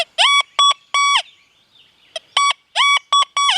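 A Deus 2 metal detector with an 11-inch coil gives a pinpoint signal, a series of loud, sharp electronic warble-beeps in clusters with a short pause between, close and clear with no talking.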